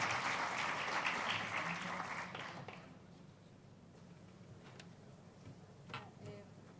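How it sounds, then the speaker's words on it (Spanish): Audience applause for a presenter at an academic talk, a few seconds of clapping that fades out quickly into room quiet, with a couple of faint clicks and knocks afterward. "Le damos un fuerte aplauso,"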